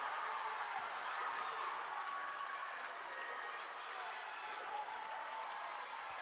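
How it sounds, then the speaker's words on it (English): A basketball arena crowd roars and cheers steadily as a women's college player is fouled while scoring, a dense, sustained wash of noise that stays loud for the whole stretch. "the crowd explodes as she's fouled on the make"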